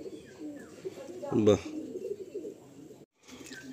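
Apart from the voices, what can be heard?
pigeon cooing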